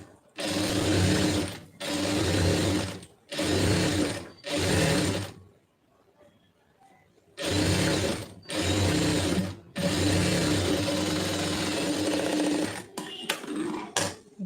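A sewing machine stitches a lining blouse in repeated close bursts, four short runs and then longer ones, with a quiet pause midway and a few brief clicks near the end.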